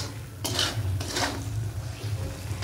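Spice masala being stir-fried in a pot for aloo dum, with a metal spoon scraping and clinking against the pot in a few sharp strokes over a low background hum.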